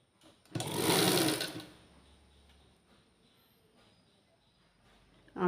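A sewing machine stitches a petticoat in one loud whirring burst of about a second, then quiet handling noises follow before a short restart at the end.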